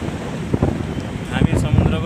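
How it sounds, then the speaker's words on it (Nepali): Wind gusts and surf at Dumas beach in Surat, Gujarat. Steady wind buffets the microphone, with soft wave wash and a few thumps underneath. "हामी समुद्रको किनारमा छौं यतिखेर भने।"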